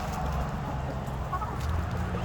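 Chickens, hens and roosters, cluck and murmur steadily at close range while being fed dinner on a farm, a dense continuous flock chatter with no voices.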